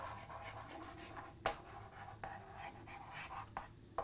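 A pen or chalk writes on a board in a quiet classroom, with faint continuous scratchy strokes punctuated by a few sharp taps as each word begins or ends, and no voice.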